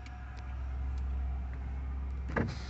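The electric window motor of a 2003 Ford Crown Victoria Police Interceptor P71 whirs steadily up close, a low hum ending in a soft clunk as the glass reaches its stop.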